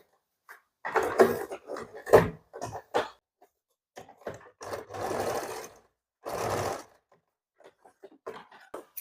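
Domestic sewing machine stitching a baby frock in short bursts, each run a few seconds of rapid whirring separated by pauses and small handling clicks, close and fairly quiet, no talking.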